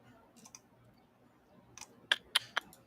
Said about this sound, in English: as I'm clicking through here